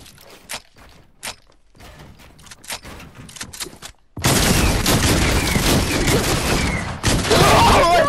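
Shotgun blasts in a video game: a few sparse sharp shots and footsteps at first, then a sudden sustained barrage of loud, dense firing that continues to the end.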